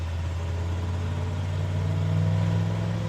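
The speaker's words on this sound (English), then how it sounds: "see if we can get this truck moving" A square-body ramp truck's engine runs with a low, steady rumble close by and rises slightly toward the end as it begins to move off, with no talking.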